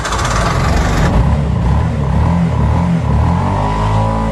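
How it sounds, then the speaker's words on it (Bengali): A 2014 Bajaj CNG auto-rickshaw engine runs close by, a loud, rough low-pitched putter that holds steady throughout without speech. "এই যে আমরা এখন ইঞ্জিনের সাউন্ড শুনবো।"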